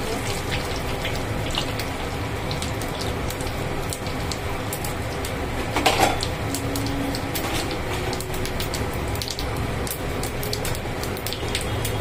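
Bay leaf and two dried chillies fry in hot oil as a khichuri tempering, a dense, steady sizzle and spatter like light rain, close and constant throughout with a brief louder flare midway.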